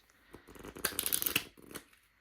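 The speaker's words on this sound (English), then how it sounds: "give it a mix, I might give it a shuffle as well actually." A deck of playing cards is shuffled and riffled close by in a quiet setting during a magic trick, giving a short burst of soft papery flutters that builds and fades within about two seconds, with no talking.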